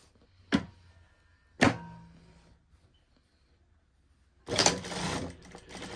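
A sewing machine with a standard presser foot stitches a trouser seam, running in a short, busy burst near the end, after two sharp thuds earlier on.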